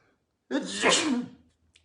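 A single loud sneeze, close up, bursting out after a brief silence and trailing off quickly.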